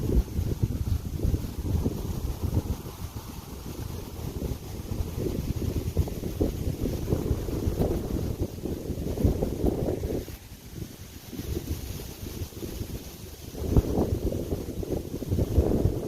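Strong headwind buffeting the microphone outdoors during a disc golf round in Pennsylvania, a continuous low roaring rumble with gusts that swell and ease throughout, close and steady, with no talking.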